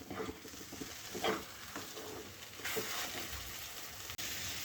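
Ginger and Kashmiri chili powder fry in a pan, giving a steady close sizzle with brief stirring scrapes and spatula clinks partway through, no voices.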